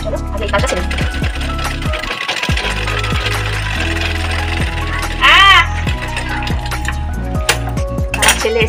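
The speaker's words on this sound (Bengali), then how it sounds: "সেলাইটা করে নিই আগে।" A sewing machine whirs and clatters in steady runs of rapid mechanical stitching, fairly close and loud, with brief pauses and small clicks and knocks in between.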